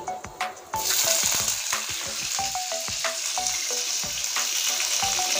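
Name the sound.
chopped onion frying in hot oil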